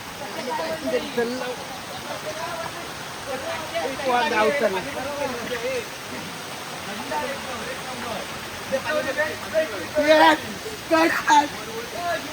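Water rushing near a waterfall on a trekking trail, a steady broad wash of flow running continuously beneath people talking nearby.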